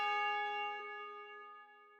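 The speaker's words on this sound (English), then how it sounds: "Then the next thing I did was add a tubular bell on the second half." Single tubular bell strike from a West Coast beat loop, ringing with clear sustained metallic partials that slowly fade over two seconds, heard alone.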